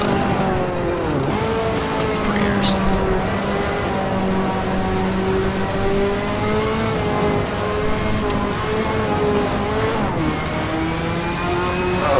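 Car engine in the racing game Assetto Corsa, a steady droning motor with smooth rises and dips in revs as the car cruises around the track, loud and continuous throughout.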